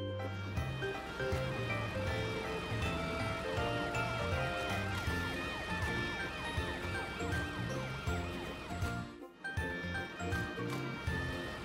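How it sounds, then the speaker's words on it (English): An animated ambulance's siren wails in a steady, repeating tone over cartoon music, loud and close throughout with no voices. "Matt went to ask Amber the ambulance to come and help."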